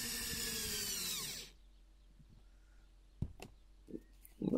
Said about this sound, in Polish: Tu już kończymy skręcanie farmerów.